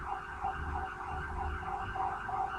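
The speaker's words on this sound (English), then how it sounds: "We got an ambulance." An ambulance siren wails steadily with a rising and falling tone, moderately loud and continuous with no talk over it.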